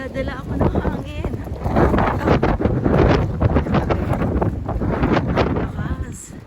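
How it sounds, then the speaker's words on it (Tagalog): Strong storm wind roars and buffets a microphone continuously in a gusty outdoor setting with fallen trees and broken branches, loud and broadband throughout, with a voice talking over it. "Nadadala ako ng hangin."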